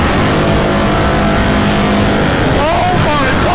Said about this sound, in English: Everyone doing burnouts.